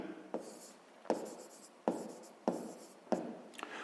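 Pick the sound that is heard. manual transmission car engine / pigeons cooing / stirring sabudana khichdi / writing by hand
writing by hand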